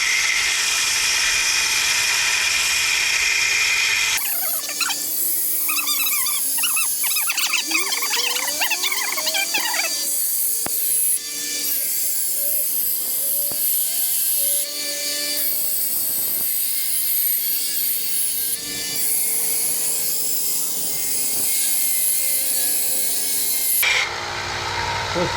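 A grinder working a steel knife blade, with a loud, continuous motor whine and a rasping grind as the steel presses against it, changing in pitch and load over about twenty seconds.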